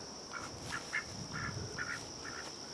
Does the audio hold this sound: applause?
no